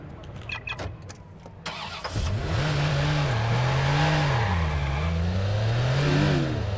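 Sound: car engine starting and revving in Watch Dogs video game

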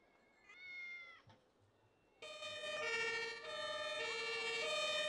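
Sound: police patrol car siren in video game Emergency 4

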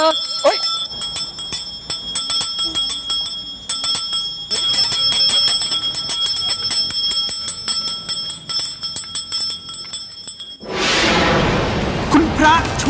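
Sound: cowbell ringing

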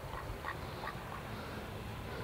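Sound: ducks quacking

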